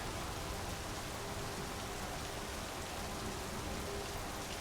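Rain falls in a steady, even hiss that stays faint and unchanging throughout, with no voices or other sounds on top.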